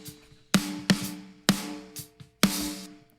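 Snare drum run through a VCA-style compressor on a hard distortion setting with limiting, four loud, sharp cracking hits with bright crunchy tails, spaced unevenly and heard alone with no talk.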